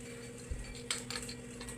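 A spoon scrapes and clinks against a metal pressure cooker while chicken is stirred for a dry chicken dish, a few soft, close metallic taps and scrapes without speech.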